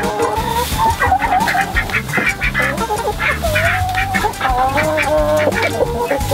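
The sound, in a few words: chickens clucking in their coop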